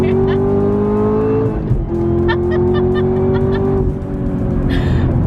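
A 2019 Chevrolet Camaro ZL1 1LE accelerates hard: its engine note climbs loudly and steadily, drops briefly at two gear changes, then climbs again, heard close from inside the car.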